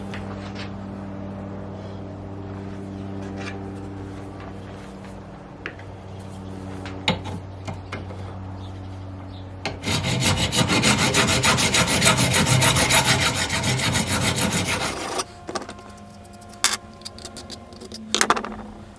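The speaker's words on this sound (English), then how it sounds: "Just going to file off any of the burrs." A metal file rasping burrs off a brass pipe fitting, a dense scraping burst of back-and-forth strokes in the middle, with quieter handling and tapping before and after.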